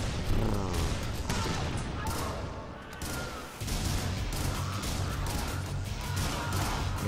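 Grenade launcher fire in a video game, a dense run of loud explosive booms and crashes with a brief dip in the middle, continuing steadily across the stretch.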